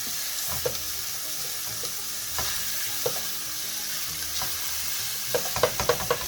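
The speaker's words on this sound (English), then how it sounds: "nothing beats just good old Italian sausage ground up in a pan" Ground Italian sausage frying in a pan, a steady close sizzle with scattered scraping and stirring clicks, a busier burst of scraping near the end.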